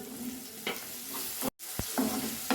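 Oil sizzles steadily in a pan with onion and tomato while a spoon scrapes and stirs through them, with a few sharper clinks and a brief silent gap.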